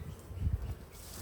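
A honeybee buzzes right on a camera lens during a spring hive inspection, a close, low, uneven drone that swells briefly in the middle and then fades.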